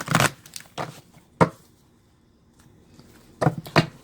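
Tarot cards being shuffled in several quick, crisp riffle bursts close by, separated by brief pauses, with no talking.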